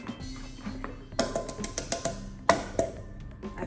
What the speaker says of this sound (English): but I'm just whisking it with this.